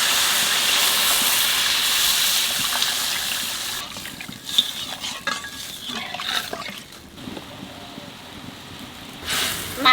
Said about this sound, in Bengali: মশলা কষানো হয়ে গেছে, এইবার জল দিয়ে দেবো।